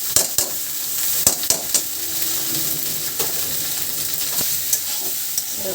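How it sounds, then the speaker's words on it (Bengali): Boiled pasta sizzles as it is stir-fried in spices with a little oil, a low frying hiss punctuated by sharp clicks and scrapes of a utensil against the pan. "এখন এই যে পাস্তা সেদ্ধ এটা ভিতরে মশলার ভিতরে দিয়ে দিচ্ছে।"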